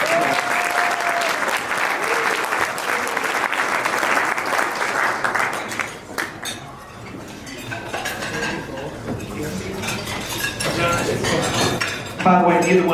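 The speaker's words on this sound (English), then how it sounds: "we really want to give her another round of applause for both these two" Sustained applause fills a dinner hall at a Lincoln Reagan political dinner, loud and steady at first, then thinning as dishes, cutlery and glasses clink amid scattered chatter, before a final burst of clapping.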